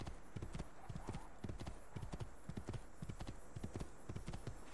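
Horse hooves clip-clopping at a steady trot in the video game Assassin's Creed 2, an even, regular rhythm of hoof strikes heard alone and fairly close.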